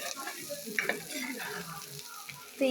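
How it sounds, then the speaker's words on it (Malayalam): A spoon stirs theeyal curry frying in a pan, with a low steady sizzle and scattered light scrapes and clinks, close and fairly quiet. "വീണ്ടും നല്ലവണ്ണം ഒന്ന് ഇളക്കി കൊടുക്കാം."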